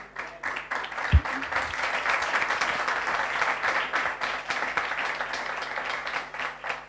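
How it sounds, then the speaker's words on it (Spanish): A church congregation breaks into lively applause during a sermon, many hands clapping in a steady, dense patter for several seconds, with a thump near the start and faint voices mixed in. "Démosle un aplauso al Señor"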